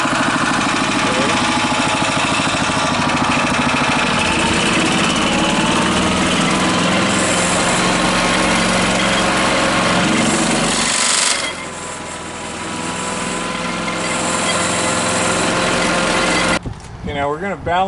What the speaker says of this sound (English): Now we're going to balance the rotor here at speed.